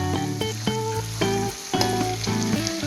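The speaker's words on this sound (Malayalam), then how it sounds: "ഒരു 2 മിനിറ്റ് നേരം നമുക്കിതൊന്ന് ഇതിലിട്ടൊന്ന് വരട്ടിയെടുക്കാം" Crab masala with black pepper sautéing in a pan, a steady loud sizzle and frying crackle with repeated stirring scrapes throughout, with background music playing over it.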